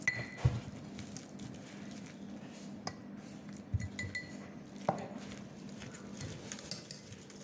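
A spoon mixing contents in a laboratory mortar, faint scraping and occasional light clinks and knocks against the bowl, quiet and close over a low steady background hum.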